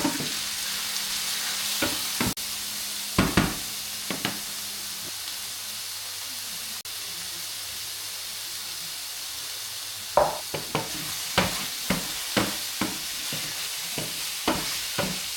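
Chicken breast strips frying with onions in a pan, a steady soft sizzle with scattered stirring clatters near the start and a run of sharp scraping stir strokes toward the end.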